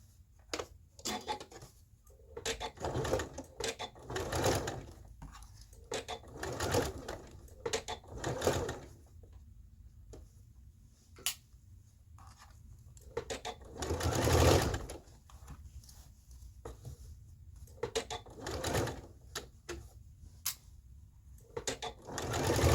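Sewing machine stitching binding on a girls' tunic, a close rattling needle chatter in short bursts of varying length separated by pauses, with faint background noise and no speech.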